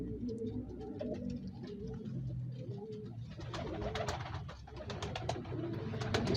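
A pair of pigeons, a male and a female, coo in low, throaty rolling calls, with several soft overlapping coos from other birds close by in a loft throughout.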